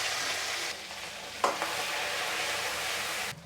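Crushed garlic and green chillies frying with cumin and curry leaves in hot oil make a steady, close sizzle. A brief clatter of stirring comes midway, and the sizzle cuts off near the end.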